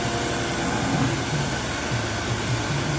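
A punch die sharpening machine runs with a loud, steady grinding whir and mechanical hum, constant and close for the whole stretch.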